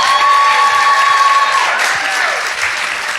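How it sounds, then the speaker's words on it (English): Audience applause fills a conference hall at an education event, a steady dense wash of clapping from a sizable crowd that slowly thins toward the end, with a faint tone running under the first half. "Give them a round of applause."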